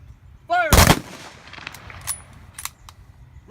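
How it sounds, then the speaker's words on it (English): An honor guard fires a rifle volley at a memorial tribute: one loud, sharp crack of several rifles firing together, followed by a fading echo and quiet. "to fire 3 volleys of musketry"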